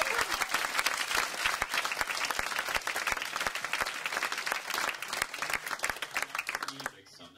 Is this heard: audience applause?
yes